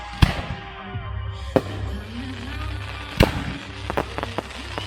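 Fireworks at a wedding show: sharp distant bangs at spaced intervals over a low steady hum, with fainter crackles near the end.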